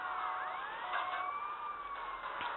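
Police siren wailing in the GTA Vice City video game, a steady rising and falling electronic wail heard alone and fairly loud throughout, with faint engine rumble beneath.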